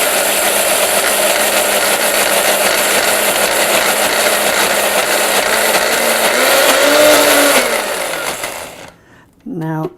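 Mustard seeds being ground for stone ground mustard in a kitchen grinder or blender make a loud, steady mechanical whir that shifts pitch briefly. The whir cuts out near the end, and a short voice follows.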